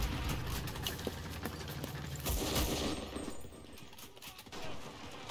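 Gunfire in the World War II shooter Enlisted on an airfield map, rapid bursts of shots and scattered reports over the game's battle noise, fading toward the end.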